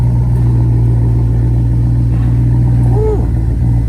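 A car parked high on blocks with its air suspension in lift mode, engine running with a steady loud idle drone and a brief rev rising and falling near the end.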